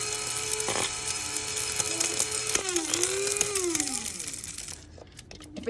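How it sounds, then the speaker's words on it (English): An electric grinder whirs while pulverizing dried vegetables into fine powder, a dense close mechanical buzz with rattling contents and a pitch that dips and rises as the load shifts, ending in faint clicks. "Grinding."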